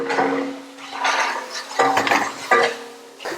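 A huge pot of buffalo meat curry, cooked over a wood fire, is stirred with a large utensil, giving repeated scraping and knocking strokes over a steady low hum.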